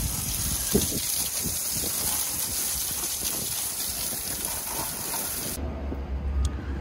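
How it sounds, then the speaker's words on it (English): Garden hose spraying water over a vehicle's winch, a steady close gushing hiss with splashing bursts that stops abruptly near the end, leaving a low rumble. "I used the hose and I got water literally everywhere."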